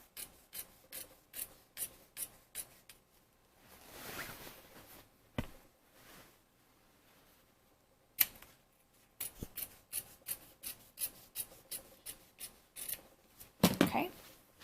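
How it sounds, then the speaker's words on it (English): Scissors trimming the excess fabric on a sewn bodice, giving a run of quick, evenly spaced snips in two bursts with a pause between them and a rougher rustle near the end, close and fairly quiet. "So just trim, being careful not to cut your romper or your skirt."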